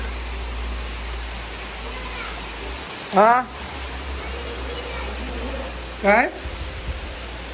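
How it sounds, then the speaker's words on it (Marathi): Heavy monsoon rain pours steadily outside a house, a dense even hiss filling the background throughout, while two short bursts of a voice speaking briefly rise over it. "पाऊस बघा, असला भयंकर पाऊस आहे"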